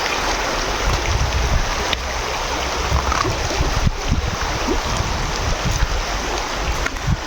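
A fast-flowing stream in Taman Melawati runs steadily with a loud, broadband rush of water that stays continuous and close throughout, with no talking.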